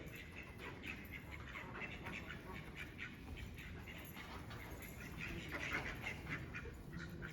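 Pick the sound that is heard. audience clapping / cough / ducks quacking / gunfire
ducks quacking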